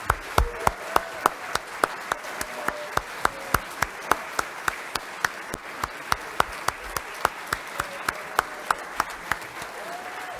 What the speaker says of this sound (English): That was an appropriate round of applause.